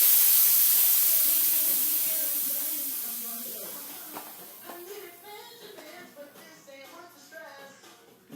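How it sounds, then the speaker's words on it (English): Air hissing out of a bicycle tire valve as the nut is loosened, a steady broadband hiss that starts loud and close, then fades gradually over several seconds while a person talks over it. "I'm just going to let the air out here."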